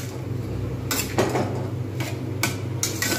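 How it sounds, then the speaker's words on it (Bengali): A utensil scrapes and knocks against a pan as potatoes are stirred with chili powder and turmeric. A few sharp metallic clatters sound close by over a steady background hum, and no one speaks. "এর মধ্যে আমি একটু নাড়তে থাকবো।"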